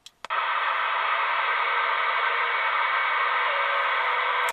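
A President Randy II CB radio in mobile scan mode gives a steady, loud hiss of static after two brief clicks at the start, with no voices over it.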